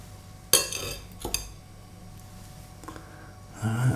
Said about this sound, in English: So I'm just going to serve up my little lamb chops.